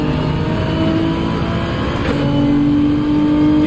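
A race car engine in Gran Turismo 7 hums steadily, then its pitch rises as it revs up, with a continuous electronic, game-like tone and no voices.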